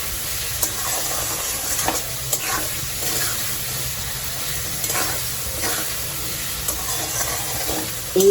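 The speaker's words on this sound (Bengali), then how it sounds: "একটু ভাজা ভাজা হওয়া পর্যন্ত অপেক্ষা করব" Capsicum pulao ingredients with a little salt sizzle and fry steadily in a pan, with a spoon stirring and scraping now and then, close and continuous.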